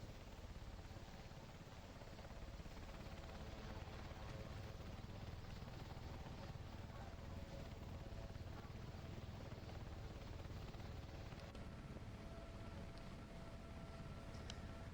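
A Sea King helicopter in flight makes a continuous, even drone of rotor and engine noise that stays steady and fairly quiet throughout, with no break.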